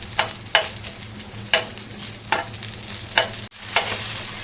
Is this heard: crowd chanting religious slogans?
no